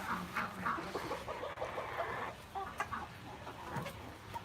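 Several hens cluck and murmur together in a busy coop, a steady low chatter with occasional sharper calls rising above it.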